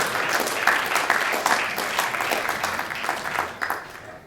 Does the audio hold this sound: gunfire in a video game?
no